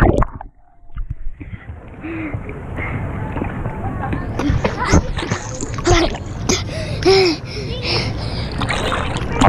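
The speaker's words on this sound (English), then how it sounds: "Now let's jump in 4 feet again." Splashes from people jumping into a four-foot-deep backyard pool at dusk, several bursts of churning water close by, mixed with shouts and voices throughout.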